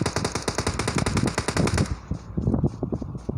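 Automatic gunfire in the video game PUBG rattles off in a fast, loud burst, then breaks into scattered, more distant shots toward the end, with no talking.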